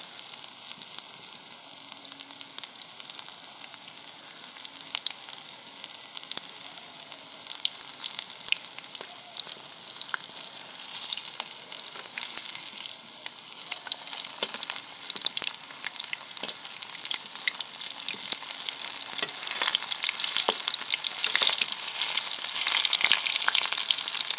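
Cauliflower pakoras deep-fry in hot oil in a village-style kitchen, a dense, steady sizzle and crackle with bubbling that grows a little louder as it goes on, with no talking.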